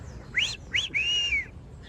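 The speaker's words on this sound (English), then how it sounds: "That's the bird known in English as the Great Kiskadee" A Great Kiskadee calls nearby in a forest: three clear whistled notes, two short rising ones and then a longer drawn-out note, heard alone and fairly loud.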